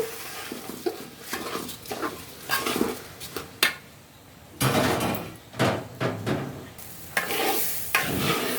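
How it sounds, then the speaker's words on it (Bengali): Pulao rice frying in oil in a pot, stirred with a spoon that scrapes and clanks against the metal in bursts, with a sizzle beneath and brief pauses between strokes. "পোলার চালটা অনেকক্ষণ ধরে ভাজবো"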